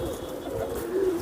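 Pigeons kept by a breeder coo close by in a soft, brief burst of low throaty calls, with no talking.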